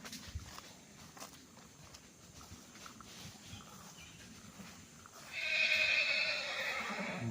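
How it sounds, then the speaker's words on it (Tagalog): A horse whinnies loudly and close by near the end, with soft hoof footsteps before it, kept on a farm lot planted with bananas and big trees in Nagcarlan, Laguna. "May alagang kabayo dito na nakalagay sa property."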